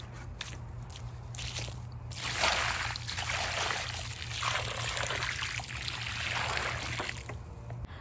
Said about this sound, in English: Let's go ahead and water it well.